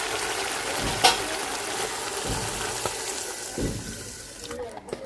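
Water is poured into spice masala frying in a pan for a Bengali-style katla fish curry, a steady rushing pour over a bubbling sizzle, close and continuous with a few clinks, and a voice murmuring faintly.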